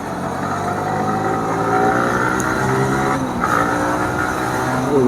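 A Yamaha R15 V3 motorcycle speeds along a highway, its engine droning loudly and steadily with rising pitch and rushing wind, with no talking.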